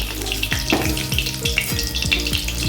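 Bhola fish frying crisp in hot oil, giving a loud, close, steady sizzle with bubbling crackles and repeated popping bursts throughout, no voices.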